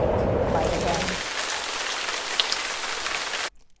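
Steady rain falls in a dense, even hiss that fills the whole stretch, with a low murmur at the start, then cuts off abruptly near the end.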